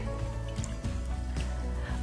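A teaspoon of baking soda being stirred into a bowl of water, with soft liquid swishes and small drips throughout, close by and fairly quiet.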